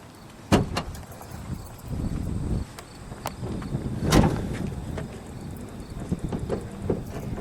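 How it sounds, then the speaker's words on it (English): The hood of a 1985 Cadillac Fleetwood Brougham coupe is released and lifted, with sharp latch clicks, clunks and metallic rattles close by, amid a few softer handling knocks. "let's pop the hood, shall we?"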